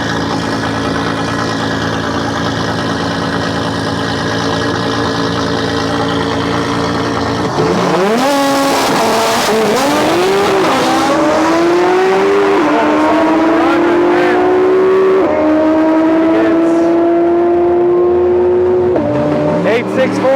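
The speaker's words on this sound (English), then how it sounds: "See if we can catch the flames that come out this exhaust" The Silverback Camaro race car at Rocky Mountain Raceweek idles loudly, then launches and accelerates hard down the drag strip, engine pitch climbing through gear changes, very loud and close.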